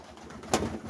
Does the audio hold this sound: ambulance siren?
no